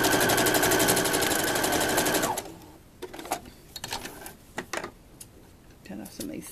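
A sewing machine runs at a steady, rapid stitching rhythm for about two seconds while attaching a ruffle to pants, then stops, followed by scattered handling and fabric noises.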